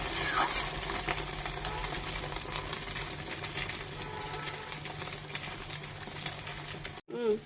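An egg omelette fries in a pan with a continuous soft sizzle while being flipped partway through, steady and close, ending with a short clatter after a brief gap.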